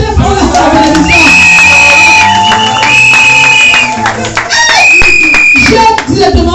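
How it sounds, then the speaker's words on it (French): A church congregation applauds during a sermon, steady loud clapping layered with whoops, cheering voices and sustained music tones over about six seconds. "Applaudissez pour la bénédiction."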